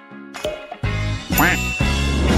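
A cartoon duck quacks, a few bright, nasal bursts that come quickly one after another, loud and close, with a light jingle near the start.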